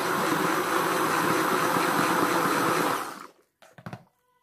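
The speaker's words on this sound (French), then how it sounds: "on va utiliser un mixeur plongeant" An immersion blender whirs loudly and steadily for about three seconds while mixing a urea and aloe vera exfoliating gel, then stops, followed by a few faint clicks and knocks.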